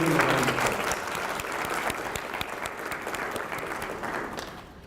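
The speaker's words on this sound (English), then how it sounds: "Please give them a round of applause." An indoor conference audience claps together for a planning committee. The applause is dense and sustained, strongest at the start and easing off gradually.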